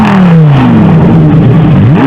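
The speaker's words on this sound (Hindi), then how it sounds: "अब मैं आपको थोड़ी सी रेव करके दिखाता हूँ गाड़ी की पावर" A Corvette sports car engine revs hard near the microphone at night on a Dubai bridge, its pitch sweeping down then climbing again in a loud, continuous roar with no talking.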